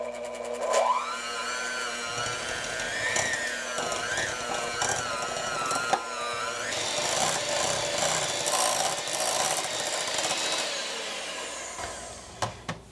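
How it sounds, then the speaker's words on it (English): An electric mixer beating a thick peanut butter candy mixture of salt and vanilla, whirring with rising and falling pitch and scraping grind as the beaters labor, steady and close with no talking. "You might want to stop your mixer and get the sides incorporated better and continue to mix."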